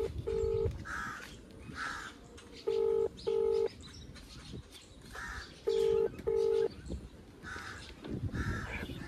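A mobile phone call is placed and rings out with a repeating double-tone ringback signal that recurs three times. Crows caw loudly around it outdoors.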